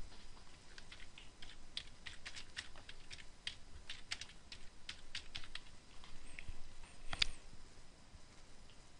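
Rapid, uneven typing on a computer keyboard while text in a box is overwritten, with close, crisp key clicks in irregular bursts over a quiet room and one louder tap near the end.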